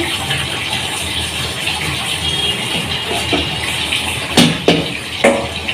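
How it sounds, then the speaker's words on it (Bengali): Dishes being scrubbed and rinsed under a running household tap, a steady close splash of water with a few louder clatters and sloshes near the end. "দেখো বাসন মেজে নিচ্ছি"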